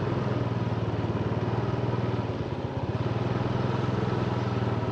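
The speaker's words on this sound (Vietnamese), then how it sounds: "Xe máy chạy ghê quá" Motorcycles and scooters running along a busy street in Biên Hòa, Đồng Nai, giving a continuous close engine drone with rattling, pulsing idle-like throb and no voices.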